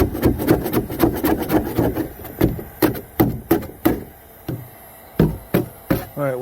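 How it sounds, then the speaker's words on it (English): Scraping plastic off the cracked keel of a Pelican Apex 100 kayak makes loud, close, rhythmic rasping strokes, about a dozen in quick bursts with short pauses between them. "I'm not going to bore you with my scraping off plastic."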